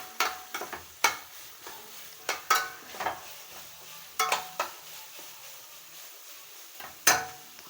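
Carrots and onions sauté in a pan while a spatula stirs them, giving a series of sharp scrapes and clacks at uneven intervals over a faint, low sizzle.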